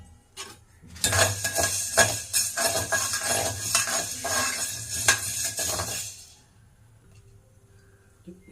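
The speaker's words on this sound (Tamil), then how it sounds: "இப்போ மிளகு நல்லா வறுபட்டுடுச்சு." Black peppercorns dry-roasting in a pan, a dense rattling and scraping as they are stirred and tossed for about five seconds, then quiet.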